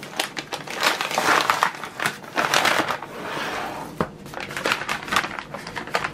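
Plastic packaging bag of a diamond painting kit being torn open and handled close up, a run of loud crinkling and crackling rustles with short pauses.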